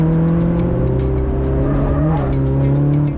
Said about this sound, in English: the MR2 was finally ready to go on